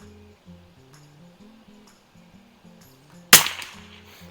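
A Mossberg 144US rifle, a US military trainer with iron sights, fires a single sharp, loud shot at a 50-yard target, with a brief echoing tail over quiet music.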